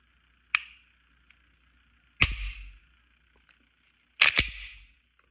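Three sharp, close clicks from a stock Glock pistol trigger being pulled and reset, spaced irregularly, each with a brief mechanical rattle trailing after it, in an otherwise quiet room.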